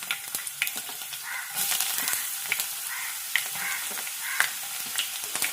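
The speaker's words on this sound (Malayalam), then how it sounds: "കടുകും ഉലുവയും ഒന്ന് മൂത്ത് വരുമ്പോഴത്തേക്ക് നമുക്ക് അതിലേക്ക് ആവശ്യത്തിന് ഇഞ്ചിയും വെളുത്തുള്ളിയും ആഡ് ചെയ്ത്" Ginger and garlic fry in hot oil with mustard and fenugreek seeds, giving a loud, steady close sizzle with crackles and spoon stirring throughout, and no talking.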